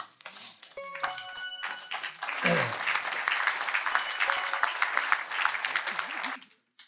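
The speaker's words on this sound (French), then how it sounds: "Vous applaudissez les non-réponses." Studio audience applauding at a Corsican-language team quiz show, a steady, moderately loud round of clapping lasting several seconds, preceded by a brief spoken voice and a few light taps.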